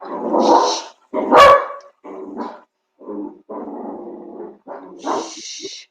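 Indoor dogs bark repeatedly and close, a run of loud barks and gruff yips with short gaps, one sharp burst standing out, alone against a quiet room.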